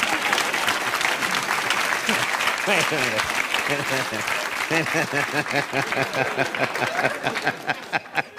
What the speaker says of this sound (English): You applauded that joke?